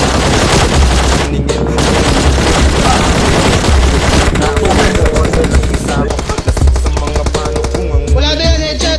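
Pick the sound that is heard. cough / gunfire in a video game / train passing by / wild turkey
gunfire in a video game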